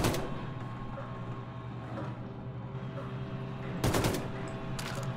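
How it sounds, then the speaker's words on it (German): Gunfire in Wolfenstein 2: The New Colossus during shooting practice, a couple of sharp bursts standing out over a steady low mechanical hum, brief and moderately loud. "Schießen üben"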